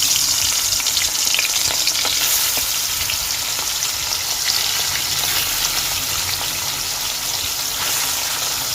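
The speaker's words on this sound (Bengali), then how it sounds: "এবার চিংড়ি মাছগুলো তেলে দিয়ে দেব।" Prawns coated in salt and turmeric fry in hot oil, a loud, continuous close-up sizzle with crackling spits running steadily for several seconds.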